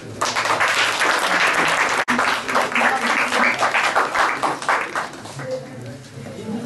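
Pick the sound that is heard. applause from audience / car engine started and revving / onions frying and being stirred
applause from audience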